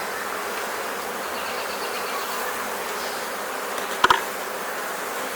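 Honeybees buzzing around open hive frames while a queen is installed, a steady close swarm hum throughout with a brief knock near the end.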